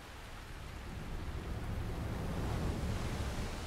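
Steady heavy rain in the video game The Legend of Zelda: Breath of the Wild, hissing across the whole spectrum, a dense wash of noise that swells slightly louder after the first second and holds.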